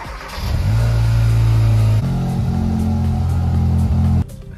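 A Kia Cerato GT (Forte GT) with a new upper engine mount accelerating hard on a test drive, the engine droning loud and close as revs climb, then dropping on a gear change and climbing again before cutting off.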